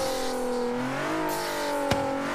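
A Bentley EXP 10 Speed 6 in Forza Horizon 3, a heavy two-ton car, accelerates with a steady, rising engine drone that climbs through the gears, broken by a short sharp shift pop near the end, with no voices.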